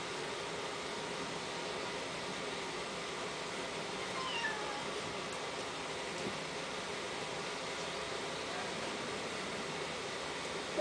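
A cat makes low, drawn-out vocal sounds against a constant hiss of background noise, faint and steady.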